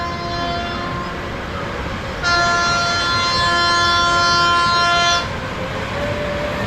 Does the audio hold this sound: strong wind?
no